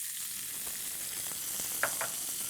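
Diced onions and green peppers fry in a hot pan, a steady soft sizzle running throughout with a few brief brighter crackles near the end, heard alone at low level.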